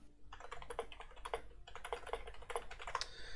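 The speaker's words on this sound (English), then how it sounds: "I was just typing to him" Rapid typing on a computer keyboard, close and faint, in quick bursts of keystrokes with short pauses between them, over low background hum.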